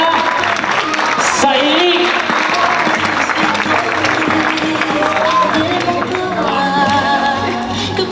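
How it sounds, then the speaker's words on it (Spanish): Loud, sustained clapping from a crowd at a quinceañera celebration fills the room, steady and dense throughout, with voices talking over it. "Y que se oiga bonito el aplauso a la quinceañera"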